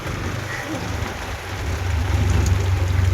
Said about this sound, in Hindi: बहुत तेज बारिश है और हम और दीदी तो पूरा भीग चुके हैं